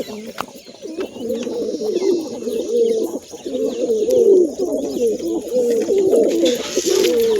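A flock of pigeons coos continuously nearby while being fed grain, overlapping throaty burbling calls filling the whole stretch, loud and close.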